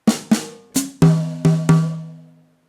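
Drum fill in jazz swing style: two sharp snare hits, then a hi-hat tick, then three rack tom strokes ringing out, six close dry hits with decaying tails and no voice.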